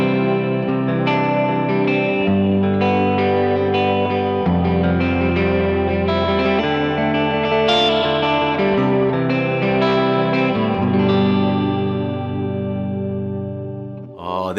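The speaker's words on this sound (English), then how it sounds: "And now let's turn on the reverb and the delay on the Imperial." Electric guitar playing sustained chords and notes through the reverb and delay of an Imperial pedal, with long washy tails and echoes that ring out at the end. There are no voices.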